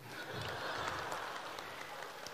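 Audience applause at a Deyunshe crosstalk show, a dense, steady wash of clapping from a full house lasting a couple of seconds without pause.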